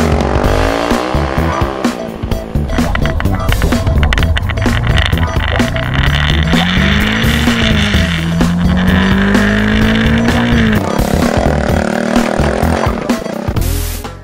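A stripped-down motorcycle fitted with a Super Trap exhaust revs loudly close by, its pitch rising and falling through repeated throttle swells before dropping away at the end.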